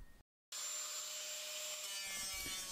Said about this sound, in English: I clean the edges with an angle grinder.